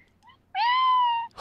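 A person imitates a cat with a single drawn-out, nasal meow, loud and close, in an otherwise quiet setting.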